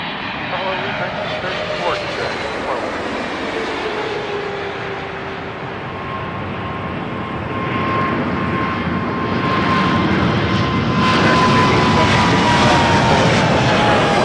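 Airplane jet engines roar steadily at Toronto Pearson Airport as a plane takes off, the broadband rumble swelling louder in the second half, heard from a distance.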